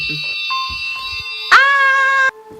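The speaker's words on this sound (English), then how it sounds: "it would immediately start ringing the alarm the instant you removed an object from it" A loud electronic alarm sounds with a steady high-pitched buzzing tone, shrill and close, holding for under a second before cutting off abruptly.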